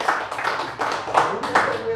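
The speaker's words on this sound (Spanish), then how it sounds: "bríndenle un fuerte aplauso al Señor" A crowd claps steadily in sustained applause, a dense patter of many hands close by.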